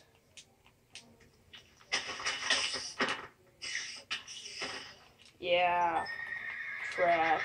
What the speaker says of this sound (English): let's kill these horses for leather